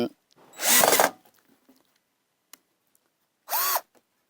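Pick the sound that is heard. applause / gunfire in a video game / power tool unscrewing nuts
power tool unscrewing nuts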